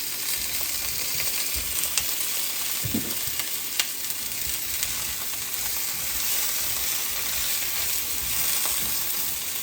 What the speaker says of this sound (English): we're going to add our potatoes in there just to fry them up, to cook them alongside with the fideo